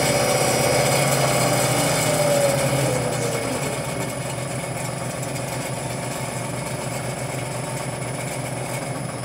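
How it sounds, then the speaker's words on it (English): A StarPower generator runs steadily close by, giving a loud, continuous mechanical hum and rumble that is slightly fuller during the first couple of seconds, then holds even throughout. "See that generator?"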